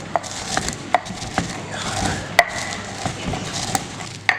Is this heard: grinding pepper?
yes